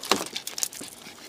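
Dog panting after being rescued from a sweltering car during a heatwave, with quick, breathy, irregular pants close by over a little more than a second.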